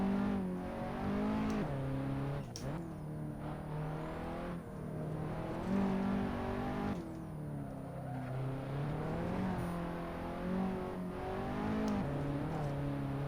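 Alfa Romeo QV Launch Edition road car in a racing video game, engine droning steadily with repeated revs rising and falling through gear changes over about thirteen seconds, loud and continuous with no talking.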